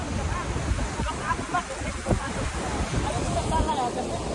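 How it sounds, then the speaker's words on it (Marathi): Rough, fierce waves churn and crash at an outdoor shooting location by the water, a loud continuous rushing wash with wind buffeting the microphone and a voice speaking over it. "आणि आज पाण्याने पण असं रौद्र रूप घेतलंय ना मित्रांनो"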